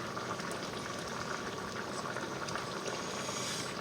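Chicken curry simmers in coconut milk in a pan, giving a steady, close bubbling hiss that stays even throughout with no talking.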